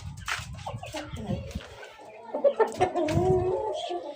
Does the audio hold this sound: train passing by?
no